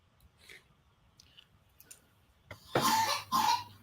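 A child coughs twice in two harsh, close bursts near the end, after a few faint clicks and near-silence.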